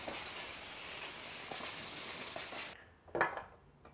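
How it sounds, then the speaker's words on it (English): A can of compressed air sprays onto a laptop keyboard with a steady, loud hiss for under three seconds, then cuts off, followed by a brief clunk. "give it a quick spray of compressed air first just to get away the surface dust"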